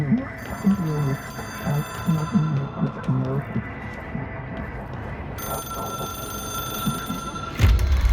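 A ringing telephone in the video game Control, a phone that is an object of power, sounding steadily at moderate level under a background of music and game ambience.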